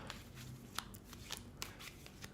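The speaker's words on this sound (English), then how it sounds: "apparently I'm not ready to shuffle cards" Quiet, soft riffling and scattered papery snaps of tarot cards being shuffled, with a few sharper clicks standing out against a faint low hum.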